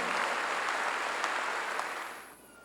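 Congregation applause during a Korean church sermon, a dense sustained wash of clapping that stays loud and even before fading out over the last few moments.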